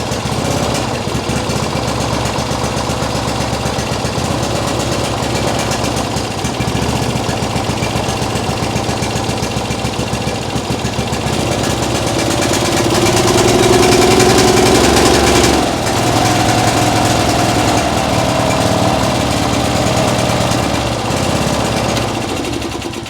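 A vehicle engine runs loud and rough for a long stretch, its pace surging and climbing mid-way as a faulty throttle cable makes it rev up on its own, then settling back to a busy idle.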